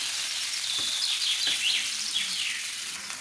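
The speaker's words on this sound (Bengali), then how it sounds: "গাজরের সঙ্গে আমি কিন্তু দু একটা আলু দিয়েছি। এভাবে কিন্তু ভাজা করলে ভীষণই মজা হয়।" Carrots and a few potatoes fry with chopped onion on a double clay stove, making a steady close sizzle with faint bird chirps in the background.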